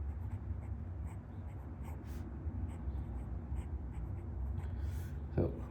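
A Platinum fountain pen with a fine nib scratches softly across paper, a quiet continuous scribbling texture close to the mic with a brief louder scrape near the end, while a voice talks.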